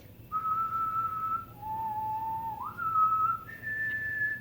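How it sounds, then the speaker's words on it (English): A person whistles a few sustained, steady notes, stepping down and then back up in pitch, clear and close against faint background hum. "If I whistle,"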